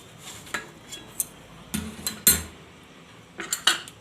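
Jaggery goes into a hot pan and is stirred in for methi pak, with a spoon clinking and scraping against the metal in scattered, sharp knocks and a few louder clatters.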